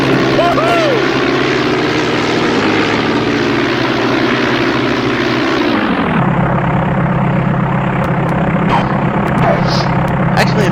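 Enemy plane propeller engines drone loudly and steadily in an aircraft shooting video game, the tone dropping abruptly midway, with a person talking over the noise.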